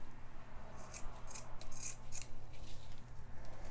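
Scissors snipping away excess material while decorating a gourd for Thanksgiving, a series of short crisp cuts repeating close by with no voices.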